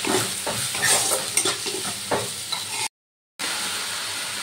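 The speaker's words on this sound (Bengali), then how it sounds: "এবার আমি গুঁড়ো মশলাগুলো ভালো করে কষিয়ে নেব।" Ground turmeric and coriander sautéed in oil in a pan for a home vegetable curry, a steady sizzle with scraping stirring strokes close up, cut by a brief silent gap before the frying resumes.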